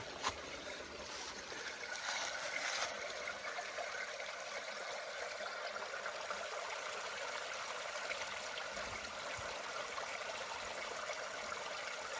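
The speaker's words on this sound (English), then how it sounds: "The sound of that water." Steady broadband rush of a stream flowing beside a campsite area on the Pinhoti Trail, continuous and moderately near, with no talk over it.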